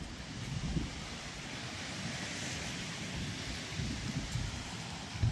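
Wind along Playa del Sol beach on a cloudy day rushes steadily into the microphone, a soft broadband roar with faint surf-like swells and occasional low buffeting gusts.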